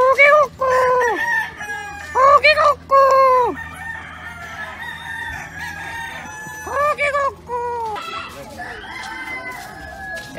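Roosters loudly crowing several times in a row, close by, among chickens in the streets of Valenzuela, with a few brief clucks between calls and faint ambient noise underneath.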